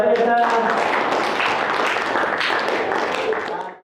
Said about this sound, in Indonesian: kita kasih tepuk tangan dulu untuk teman-teman yang presentasi tadi